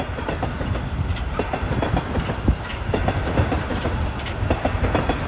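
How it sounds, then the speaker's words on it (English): A Toronto subway train pulls into Davisville Station, its wheels clattering rhythmically over rail joints with a hissing rush, loud and close, with no talking. "That train is pulling into Davisville Station."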